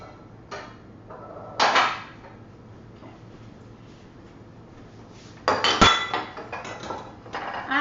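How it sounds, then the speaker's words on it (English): Metal clinks and clatter from metal donut pans as pumpkin spice doughnut batter is scooped in, a few short bright knocks with a louder cluster of rattling near the end. "now we're going to add it to our donut pans"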